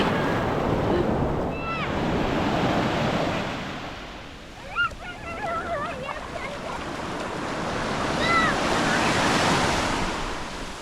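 Mediterranean Sea waves wash steadily onto the shore on a January day, with a constant roar of surf and wind buffeting the microphone. Brief voices break through the noise now and then.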